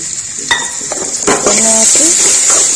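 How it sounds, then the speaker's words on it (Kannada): Half-roasted green tomatoes frying in about two tablespoons of oil, with a steady sizzle under sharp clinks and scrapes of a metal spoon against the pan, close and busy. "ಈಗ ಅರ್ಧಂಬರ್ಧ ಹುರ್ಕೊಂಡಂಥ ಟೊಮೆಟೊ ಕಾಯಿಗೆ ಸ್ವಲ್ಪ ಎರಡು ಟೇಬಲ್ ಸ್ಪೂನ್ ಎಣ್ಣೆ ಹಾಕತೇನ್ರಿ ನಾನು"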